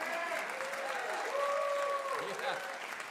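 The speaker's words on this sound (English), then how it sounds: "Let's give Dorothy a big round of applause." Audience applause at the WoodSongs live music broadcast, a steady wash of clapping from a crowd for a performer, filling the whole stretch at even loudness with tonal hum and some voices mixed underneath.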